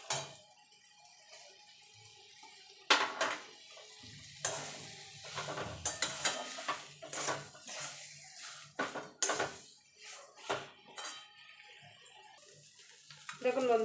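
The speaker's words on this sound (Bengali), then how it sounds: "দিয়ে ভালো করে মিশিয়ে নেব মশলার সঙ্গে মাছ আর আলুটা।" Mashed potato and fish are worked together with spices in a bowl, giving soft, intermittent squelching stir sounds with occasional bowl knocks, close up and without talk.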